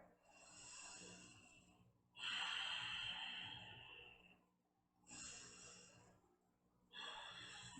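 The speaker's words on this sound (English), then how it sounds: "practicing that ujjayi breath where you're deepening into your nose, down to your belly, out from your belly, out from your nose here." Slow ujjayi breathing through the nose during a yoga session, with long rushing inhales and exhales repeating in a steady rhythm, close and fairly soft, with no talking.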